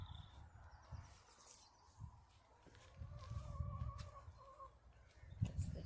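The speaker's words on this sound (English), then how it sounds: "That's the chickens." Hens clucking nearby in a forest-garden setting, with soft, intermittent calls and low murmuring clucks rising and falling over a steady outdoor background.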